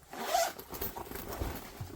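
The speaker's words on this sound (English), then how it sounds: "We'll zip up the zipper." A zipper is drawn along a handmade leather backpack with a lining, giving a close, quiet rasping pull followed by a few soft handling sounds.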